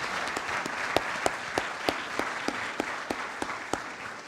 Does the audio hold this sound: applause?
yes